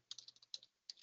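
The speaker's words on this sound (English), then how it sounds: "I'm typing in iSupplier" A search is typed into a computer keyboard as a brisk run of light, close key clicks, a short pause, then a few more taps, soft and quiet with no speech.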